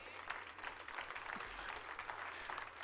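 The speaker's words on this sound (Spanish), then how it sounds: "Aplaudan ahora" Applause from a church congregation during a Spanish-language sermon, a steady, dense wash of clapping that stays fairly faint and continuous throughout, with no clear pauses.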